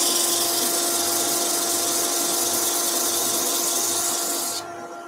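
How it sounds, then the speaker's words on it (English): Steady, close whirring hiss of a power sander working on a wooden tea light candle holder, continuous and even for about four and a half seconds before it cuts out abruptly, leaving a quieter hum. "So just a little bit of sanding."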